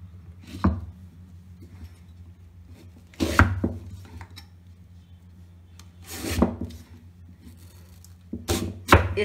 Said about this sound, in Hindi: इस प्रकार भी आप आम के छोटे छोटे पीस कर सकते हैं।